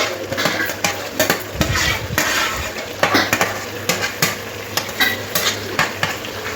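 Chicken chaap sizzles in a pan as gravy goes in, with a spoon scraping and stirring in repeated strokes over a constant frying hiss, close and loud, no talk.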